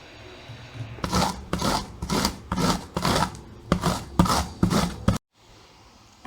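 Sweet corn is grated by hand for pakoda, making about nine rhythmic rasping strokes, loud and close, each a short scraping burst, before a sudden silence.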